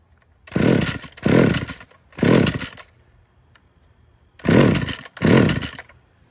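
A McCulloch Eager Beaver chainsaw, unused for ten years, is pulled over repeatedly: five loud rasping bursts of engine cranking in an uneven rhythm, separated by short pauses, and it never catches.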